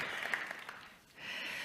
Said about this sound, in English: Can I have a clap for Kabir and the NewNet team?